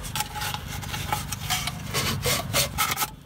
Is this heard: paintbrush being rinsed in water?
no